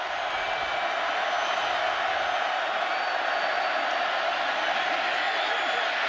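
A football stadium crowd at an Oklahoma State at Oklahoma game roars in a dense, steady wash of noise during a third-down play on the opening drive, continuous and fairly distant throughout.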